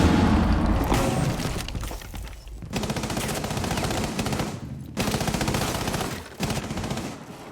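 Sustained rapid gunfire from a Rainbow Six Siege match, dense bursts that run almost continuously with a couple of short breaks, loud and close with a busy, cluttered mix.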